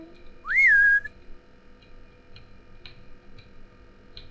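A character in the Backrooms Society video game gives one short, clear rising whistle. A soft ticking follows with a few faint clicks over a quiet room hum.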